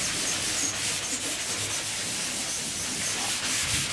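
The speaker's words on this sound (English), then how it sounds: "how much easier it is to sand with a Scotch-Brite" Steady, close abrasive rubbing of a Scotch-Brite pad sanding riveted metal, a continuous hissy scrub with slight back-and-forth pulsing.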